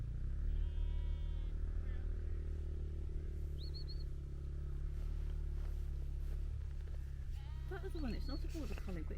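A few sheep bleats ring out on the hillside at Smearsett Scar, one early and a cluster near the end, over a steady low rumble and background noise.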